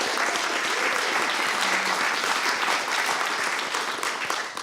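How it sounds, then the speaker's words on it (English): A conference audience applauds a thanked organizer with steady, dense clapping that fills the room for several seconds and begins to thin near the end, with no voices over it. "Let's give him a round of applause."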